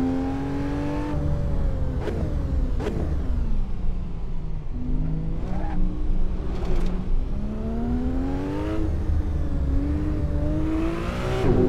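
Car engine climbing a steep mountain hill climb in the racing game Assetto Corsa, revving up and down through repeated gear shifts with sharp jumps in pitch, a steady moderate drone without any talking.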